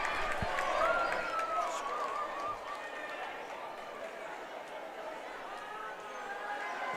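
A student section crowd at an IHSA Class 1A girls basketball sectional final roars and cheers in a steady, dense wash of voices filling a gym.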